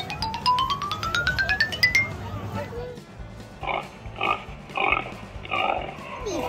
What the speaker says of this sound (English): look at these little baby piglets!